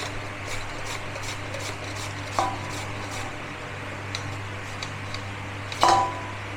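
Potatoes sliced by hand for homemade masala chips, a quiet series of soft rhythmic cutting taps with a couple of sharper knocks, close by with no talking.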